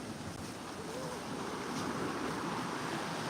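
Fast-rising, flood-swollen creek water rushes and churns steadily, a loud continuous broadband roar close by with some wind buffeting the microphone and no talking.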